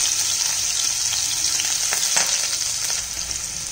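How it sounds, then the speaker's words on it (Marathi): Chopped onion sizzling as it drops into hot tempering oil already crackling with mustard seeds and cumin on low heat, a steady close-up frying hiss with brief louder spits, no voices. "आता कांदा हा फोडणीला घालायचा आहे"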